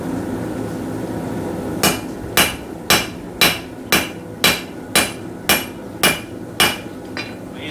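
Hammer blows ring out on hot steel over an anvil while forging a pair of knife blade tongs, about eleven sharp, evenly spaced metallic strikes, close and loud above a low workshop hum.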